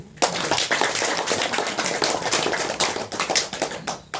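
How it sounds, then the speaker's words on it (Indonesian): Audience at an outdoor Balinese Hindu dharma talk in a village clapping hands, a dense, fairly loud burst of many claps lasting several seconds and tapering toward the end. "Tepuk tangan."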